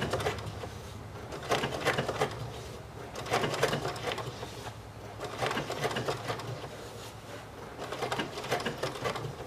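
BERNINA 880 computerized sewing and embroidery machine stitching at close range, a steady rapid mechanical patter that swells and eases in waves and runs on without pause, with no talk.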